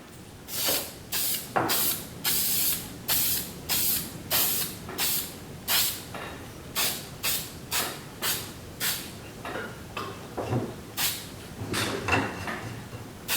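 Short repeated bursts of aerosol spray, Brownells Aluma Hyde II paint applied to an AR-15 receiver, each hiss lasting under a second with brief gaps, close and steady across more than a dozen passes.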